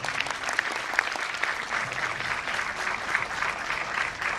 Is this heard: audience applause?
yes